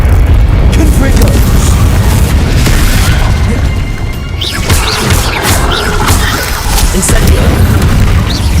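Confringo explosion spells booming repeatedly in the Hogwarts Legacy video game, a dense loud barrage of blasts and crashes with a voice calling out under the din.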